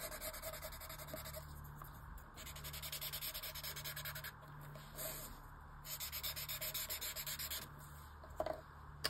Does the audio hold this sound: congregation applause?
no